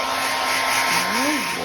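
Steady loud whoosh of a hair dryer blowing on a wet mini Labradoodle puppy after a bath, close and continuous, with a slight pitch shift partway through.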